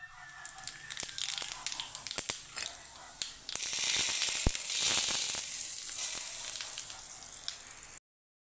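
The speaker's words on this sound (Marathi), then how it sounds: "आपण एक हलकासा तडका देऊ जिऱ्याचा चटणीला." Cumin seeds crackle and sizzle as they hit hot oil for a tadka poured over chutney, a dense hissing fry with sharp pops that swells halfway through and holds steady, close and fairly loud, with no voices.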